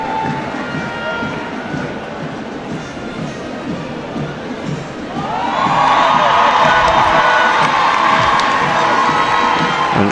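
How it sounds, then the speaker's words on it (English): A roadside crowd at a national Independence Day parade cheers and applauds a police K9 unit display, the noise rising sharply midway into loud, sustained cheering with shouts. "as you can hear from the applause"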